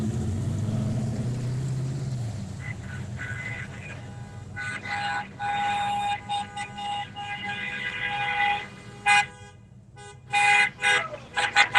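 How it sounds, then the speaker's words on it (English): Car horns toot and honk repeatedly at an evening rolling car show in Doylestown, short bursts of varying pitch rising over engine rumble after a low opening drone. "watching those cars roll through, and when they're honking their horns, making a lot of noise"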